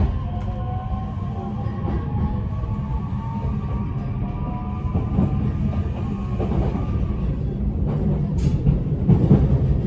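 A JR Sagami Line train rolls steadily along single-track rails with a constant low rumble and faint rhythmic clatter, heard from inside a carriage, no voices.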